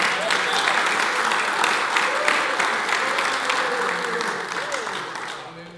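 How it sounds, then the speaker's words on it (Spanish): A church congregation at a men's congress claps together in praise to the Lord, a dense, steady wave of applause that holds strong and slowly tapers, with faint voices mixed in. "Vale la pena darle una alabanza de palmas al Señor."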